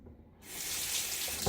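Cold water gushes steadily from a bathroom tap during a wet shave with a Gillette Sheraton safety razor, starting abruptly after a brief quiet moment and running as a close, even hiss.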